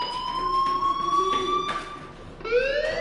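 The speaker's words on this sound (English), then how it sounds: "do you hear that fire alarm? That means you should be outside." In the video game Life is Strange, an electronic fire alarm sounds close by as a loud, steady high tone. It dips briefly, then returns as a rising siren-like wail.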